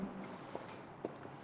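Chalk or marker writes an equation on a board, giving faint, brief scratching taps in a quiet room, with a few short strokes spaced apart.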